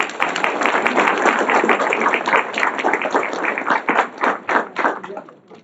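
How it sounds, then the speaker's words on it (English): A school audience at a live-streamed event applauds a team, loud close clapping with distinct individual claps, thinning out toward the end into scattered separate claps. "Give them another round of applause."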